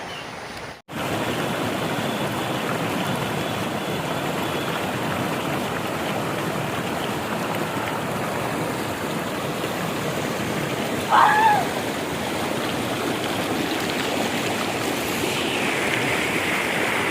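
A steady rush of flowing stream water fills the whole stretch, constant and close, with a brief faint voice partway through.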